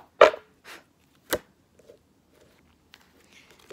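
A tarot deck being cut on a table, giving a few sharp papery slaps and shuffling clicks spaced across a few seconds, close and otherwise quiet.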